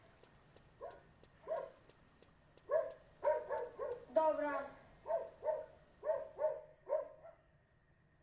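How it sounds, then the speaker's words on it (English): A dog barks repeatedly in a steady rhythm, about a dozen sharp barks at moderate distance, with a brief spoken word nearby. "Well, that dog is fucking pissed."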